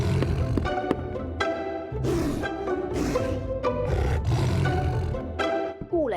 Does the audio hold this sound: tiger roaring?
yes